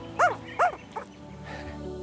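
Tasmanian devil joeys, a small huddled bundle of babies, give three short, high whimpers close up, the first two clear and the third fainter, followed by quiet.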